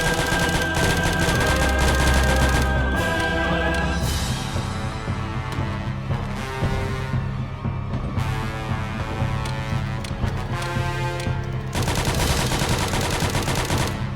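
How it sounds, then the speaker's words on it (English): Grenade launcher fired at a zombie horde in the Project Zomboid video game, repeated heavy blasts and gunfire bursts over a loud continuous layer of game sound, dense and unbroken for the whole stretch. "I grab the grenade launcher, and as many grenades as I can"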